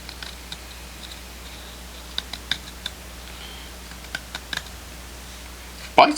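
Small LionSteel CK0112 Barlow pocketknife shaving basswood by hand, giving a series of faint, sparse scraping clicks and short cutting strokes over quiet room tone, with a louder knock at the very end.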